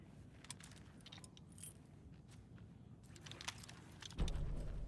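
Keys jangling in the video game Alan Wake 2, a light metallic rattle running for a few seconds over steady low ambient rumble, with a louder thump near the end.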